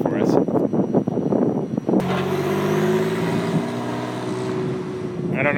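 A white Porsche 911 coupe drives past, its engine note rising and holding steady nearby after a stretch of talk and wind noise.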